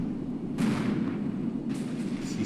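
War video game battle with continuous rumbling machine gun and mortar fire, a dense steady roar of gunfire and distant explosions with louder crackling bursts, and no voices over it.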